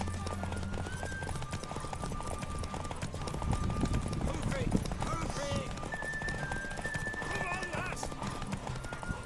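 In The Witcher III: Wild Hunt, horse hooves clip-clop continuously with a whinny partway through, mixed with game ambience and voices talking.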